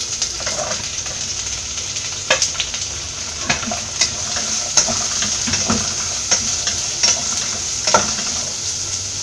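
Shallots sautéing in a pan with ginger and garlic for a Kerala kadachakka (breadfruit) dish: a steady close sizzle with scattered sharp clicks and scrapes of stirring, no talk.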